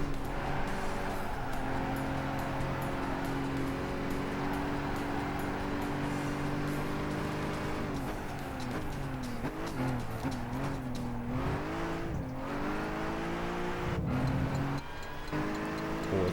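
Racing car engine in Gran Turismo 5 during a Polyphony Digital Championship race, a steady droning whine that rises and falls with gear changes and throttle, with faint tire squeal, heard alone at moderate level.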